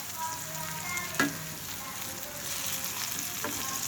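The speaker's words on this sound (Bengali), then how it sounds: "বেগুন আর আলুটা খুব সুন্দর করে ভেজে নেব দেখুন" Eggplant and potato pieces fry in a generous amount of oil with a steady, close sizzle, broken by a couple of sharp clinks and scrapes from a utensil against the pan.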